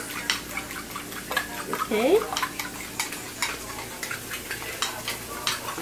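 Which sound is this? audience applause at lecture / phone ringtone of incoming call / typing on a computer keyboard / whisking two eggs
whisking two eggs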